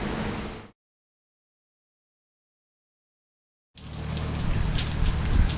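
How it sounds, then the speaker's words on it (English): Rain falling during Mediterranean hurricane Medicane Ianos on Kefalonia, a steady hiss of rain that cuts out into silence for a few seconds, then returns heavier with wind. "And the rain has started again."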